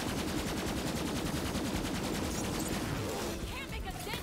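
Gunfire against enemies in Borderlands 3, a relentless loud stream of rapid automatic shots that never pauses, with chaotic game effects mixed in and a voice talking faintly beneath.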